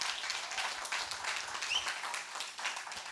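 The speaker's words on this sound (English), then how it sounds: "give a round of applause to the ones that have just asked questions and presented" An audience at an academic winter school gives a round of applause, a moderate, fairly distant scatter of many clapping hands that rises and dips slightly over a few seconds.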